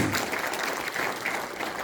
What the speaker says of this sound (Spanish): un aplauso fuerte para nuestro Dios